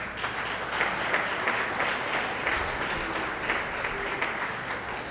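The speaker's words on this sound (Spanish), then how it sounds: "Un aplauso a las amas de casa." Sustained applause from a church congregation fills the space evenly, a dense steady wash of many hands clapping for housewives at a Pentecostal-style service, moderately loud and without speech.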